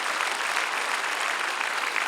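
A congregation at a church worship assembly applauds loudly in a sustained wash of clapping that carries on evenly without a pause.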